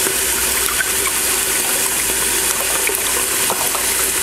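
Beef broth pours steadily for Instant Pot chili, a continuous close gushing splash of liquid that runs without a break and without any voices.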